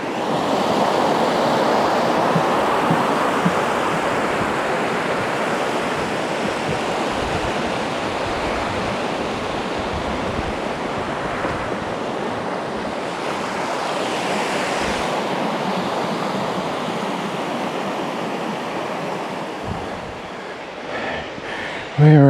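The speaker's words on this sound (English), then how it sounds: "All right, it's the Paradise River." Paradise River rushes in a steady, loud broadband wash of flowing water, continuous and close without letup, with a little wind buffeting the microphone and no voices.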